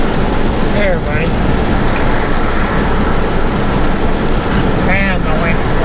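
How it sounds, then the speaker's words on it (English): Heavy wind-driven rain lashes sideways against a moving truck on an Indiana highway, a loud, constant roar of spray and wind with faint tonal whines around the first and fifth seconds. "I don't know if you can see it in video, but the rain is sideways."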